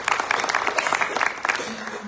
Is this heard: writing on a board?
no